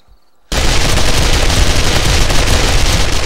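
Continuous automatic AK rifle fire in a video game, a sustained loud burst of rapid shots starting abruptly after a brief quiet moment and running to the end without pause.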